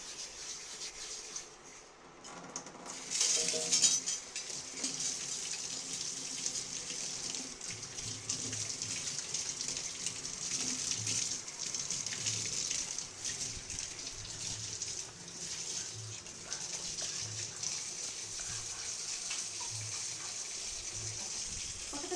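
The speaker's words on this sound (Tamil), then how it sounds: "இப்போ வந்து தண்ணி திறந்து டேப் திறந்து கழுவலாம்" Water runs steadily from a tap into a sink while puja items are washed, a continuous splashing rush with faint scrubbing and clinks underneath.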